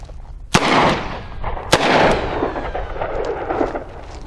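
Two loud, sharp gunshots from a Smith & Wesson Model 29-4 .44 Magnum revolver fired one-handed outdoors, spaced about a second apart, each followed by a long booming rumble and echo.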